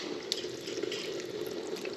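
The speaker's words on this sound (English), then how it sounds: "so I add a couple cups of water" Filtered water poured from a container into a pot of kale greens, a steady close splashing stream with a few small drip accents, continuous and alone without talk.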